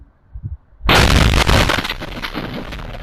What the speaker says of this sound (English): That loud explosion is seen and heard from a doorbell cam